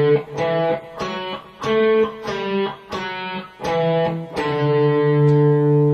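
A run from the Prelude of Bach's Cello Suite No. 1, climbing then falling in a series of distinct bowed notes, loud and close, ending on a sustained tone with no talking.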